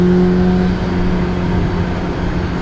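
Supercharger whine from a Honda S2000 fitted with a Kraftwerks supercharger and a 30mm pulley, a loud steady high-pitched whine over the engine drone, with no talk.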